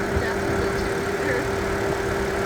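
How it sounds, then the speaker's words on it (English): A 3-liter six-cylinder non-turbo engine in a 2013 BMW 128i convertible runs steadily with the hood open, a continuous even hum with a faint tonal whine, no talk over it. "It's a 3-liter, 6-cylinder engine."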